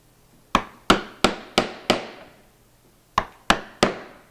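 Mallet blows drive a wooden chisel held upright while cutting a mortise in wood, chopping end grain: five sharp, loud knocks in steady rhythm, a pause, then three more, each ringing briefly with no talk.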